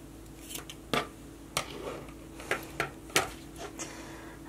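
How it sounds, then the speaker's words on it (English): Scissors snip through paracord for a homemade dog collar: a handful of short, crisp cuts spaced irregularly, close by, over a quiet room hum. "what we're going to do is start to cut and melt our cords"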